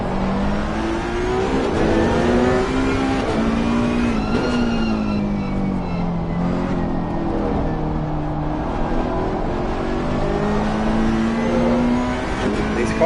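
A Ferrari Challenge race car at COTA in a racing game: a loud, continuous engine drone that rises and falls in pitch with gear changes and revs, under a faint commentary voice.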